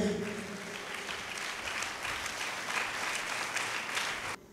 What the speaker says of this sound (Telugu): చప్పట్లు కొట్టండి ఒకసారి గట్టిగా